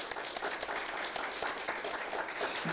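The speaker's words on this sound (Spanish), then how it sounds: "Gracias a Fumi Akinoya y Satomi Miura, les pido un aplauso para ellos." Audience applause at a forum on Japanese film and literature, a steady dense patter of many hands clapping at moderate distance, continuing throughout without talk.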